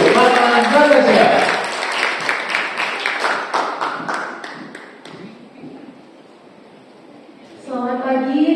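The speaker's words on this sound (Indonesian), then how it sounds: "Mari kita beri tepuk tangan yang meriah untuk Mama Natasha." Audience applause at a school event for a Javanese-style wedding culinary practical exam, steady clapping under an announcer's voice that fades, then speech resumes.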